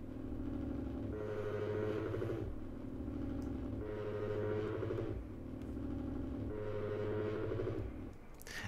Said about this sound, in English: it's kind of like a vibrating sound or a resonating sound